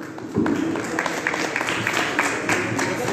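Applause for a singer at a Comorian award ceremony for women's empowerment, a steady wash of clapping from the audience that swells after a moment and continues evenly throughout.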